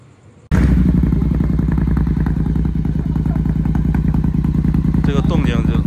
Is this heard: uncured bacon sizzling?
no